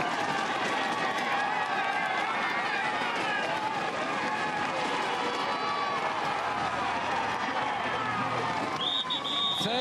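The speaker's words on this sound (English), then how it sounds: "Listen to that crowd." Roadside crowd at a Tour de France mountain stage finish at Le Lioran, a dense, continuous roar of cheering and shouting that stays loud throughout, with a commentator's voice running over it.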